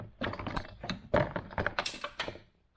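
Plastic trim pieces on a Nissan 350Z convertible cracking and snapping as a screwdriver pries out the rear speaker panel, a close run of sharp irregular clicks and crunches.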